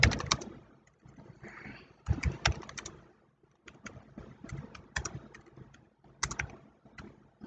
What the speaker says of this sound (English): So much typing.